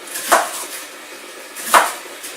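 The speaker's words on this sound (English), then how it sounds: "just slice up those leeks into nice little slices" Two sharp knife chops slicing leeks land on a cutting board about a second and a half apart, crisp and close, with quiet room noise between them.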